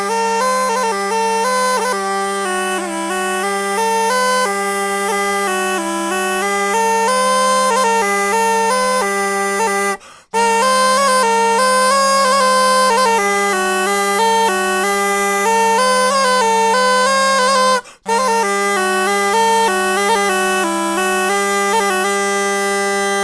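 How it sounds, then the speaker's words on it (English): A double pipe in the style of ancient Pictish pipes plays a continuous reedy melody over a steady low drone, with two brief breaks for breath, loud and close with no other sounds. "This is a double pipe."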